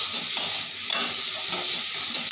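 Olive chutney with added sugar is stirred in a pan over a steady hiss of frying, with soft repeated scraping strokes close by and no voices.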